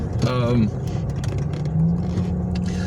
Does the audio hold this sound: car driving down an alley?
yes